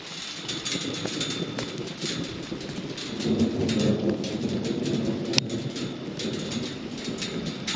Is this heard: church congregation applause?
no